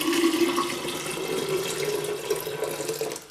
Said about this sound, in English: pour the juice into the jug